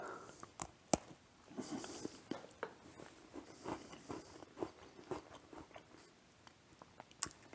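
Someone bites into a homemade Twix bar of tempered chocolate, caramel and shortbread and chews it, giving close, sharp crunches and snaps at irregular intervals between quieter wet chewing, with no talking.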